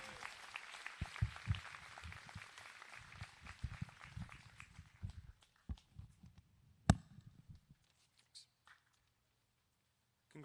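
Graduation ceremony crowd applauds the 2025 Silver M Society inductees: faint, distant clapping that runs for several seconds, thins into scattered claps and fades to near silence.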